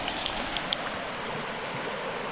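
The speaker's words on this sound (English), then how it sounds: "And Lee is pumping some water." Steady watery rushing of a hand pump pushing water through a filter on the John Muir Trail, with a few faint clicks near the start.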